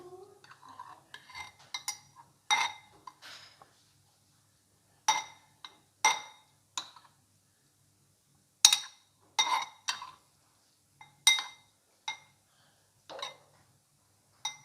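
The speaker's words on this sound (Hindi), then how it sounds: "अब हम इसे अच्छे तरीके से मिक्स करते हैं।" A spoon clinks against a bowl while chicken pakora batter is mixed with gram flour, in short, distinct bursts of scraping and tapping separated by brief pauses, fairly close and alone.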